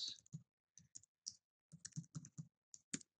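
Password being typed on a computer keyboard during an Ubuntu 10.04 install, heard as about a dozen quick, close key clicks in irregular bursts with short pauses between.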